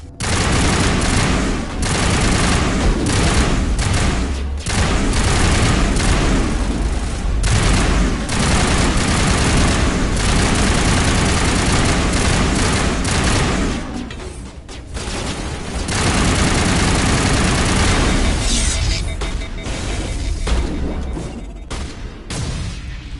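Sustained gunfire erupts in a Mass Effect firefight, loud and close, with rapid automatic bursts and heavy blasts rattling on for long stretches, briefly thinning mid-way before resuming.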